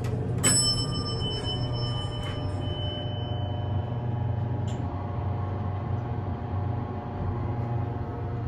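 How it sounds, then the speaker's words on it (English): A single bright elevator bell ding from a 1994 Aurora hydraulic elevator rings out over a constant low mechanical hum, its tone lingering and fading slowly. "Hear that bell?"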